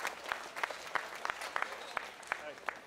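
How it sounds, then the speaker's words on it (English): Audience applause at a junior gilt show in the West Ring, honoring three division winners: a steady patter of claps with sharper individual slaps scattered throughout, moderately distant and sustained across the whole stretch. "let's give all three of these division winners and these kids a big round of applause"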